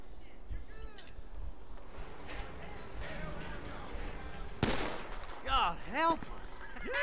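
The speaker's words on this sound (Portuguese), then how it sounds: "Vai dar tiro também." Bursts of gunfire sound during a GTA V game scene, sharp shots over background game noise, with speech-like voices nearby.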